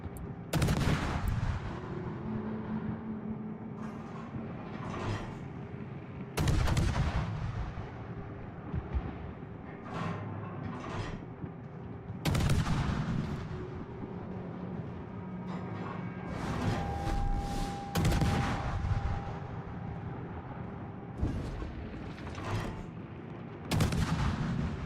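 Naval gunfire in the video game World of Warships: heavy booming salvos roughly every six seconds, each a sharp loud blast that trails into a rumbling decay over steady background noise, with no speech.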